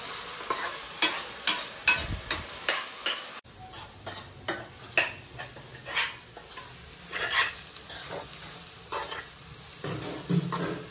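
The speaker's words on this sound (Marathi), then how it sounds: "कांदा टाकलाय. कांदा व्यवस्थित लाल भाजल्यावर नंतर मग बाकी सगळे मसाले स्पायसेस टाकणार" Chopped onion frying in oil in a pan at a farmhouse kitchen, a spoon scraping and stirring in regular strokes over a constant sizzle, close and clear with no talking.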